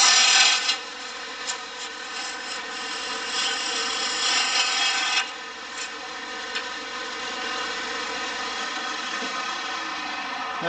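A wood lathe spins a piece mounted for offset turning while a hand tool works it, giving a steady rasping, rubbing scrape over a constant motor hum that eases off partway through.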